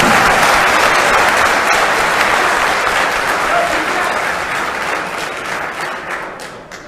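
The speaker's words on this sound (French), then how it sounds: "Et je vous demande de l'applaudir." An audience at a conference gives long, dense applause that starts loud and gradually fades over several seconds.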